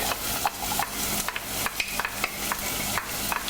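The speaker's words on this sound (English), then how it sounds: "now we'll add the garlic" Garlic added to a pot and stirred, a steady sizzle with repeated scraping strokes of a spoon against the pot, close and clear, with no talking.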